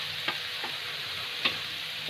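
Grated boiled potato sizzles and fries in a pan, a steady soft hiss with a few light stirring taps breaking through close by.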